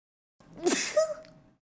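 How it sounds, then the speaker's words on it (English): A single sneeze from a female streamer, a sharp gasping intake followed by a forceful burst and a trailing voiced tail, close and clear with nothing else around it. "So, wait, I'm gonna sneeze."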